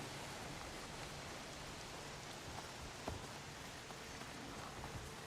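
Steady rain falls outdoors in California as a faint, even wash of hiss with a few soft drop-like ticks, continuous and distant, with no talking.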